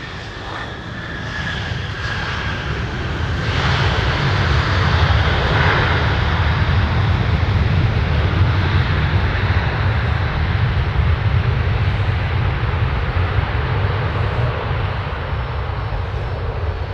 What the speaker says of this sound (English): We got our Iceland Air 737 2150, 10 left, and out.